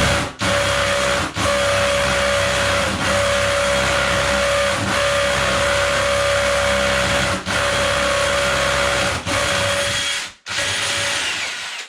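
A power drill bores steadily through porcelain tile with a loud, continuous whining grind and a sustained tonal hum. It pauses briefly several times in short gaps, then stops near the end before starting again.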